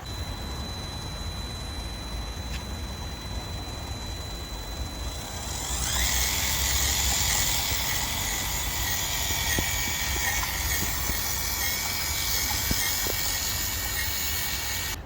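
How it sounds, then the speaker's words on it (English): FMS Land Rover Series II RC car motor driving at full throttle, a steady whine that rises sharply partway through and holds as a loud, continuous high-pitched drone, with no talking. "let's just see what the kind of slow speed control is like, and then we'll do full throttling first"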